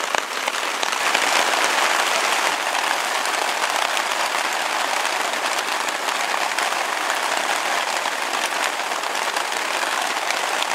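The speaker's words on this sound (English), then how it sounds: "she's raining pretty good." Rain drums on a tarp stretched over a hammock camp during a storm, a dense, steady hiss of countless close patters that never lets up, with no voices.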